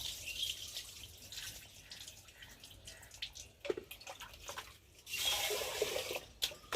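Rice being washed by hand under water from a hand-pump tap in an outdoor yard, with steady dripping and trickling water and brief louder splashes and sloshing.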